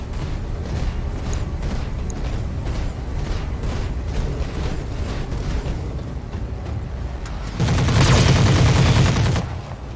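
Machine guns and a medium laser fire in the Battletech mech game, with rapid gunfire crackling throughout and a louder, denser burst near the end.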